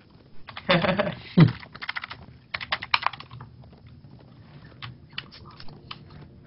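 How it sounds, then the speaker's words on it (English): Quick bursts of computer keyboard typing during Lord of the Rings Online play, irregular clusters of clicks and taps, fairly close, with some background noise and possible faint voice. "No, I hear typing."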